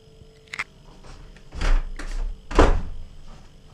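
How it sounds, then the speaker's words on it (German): A door swinging shut, a couple of muffled thunks with a heavier final closing thud, close by, with faint background hum and no talk. "Die Tür funktioniert einwandfrei."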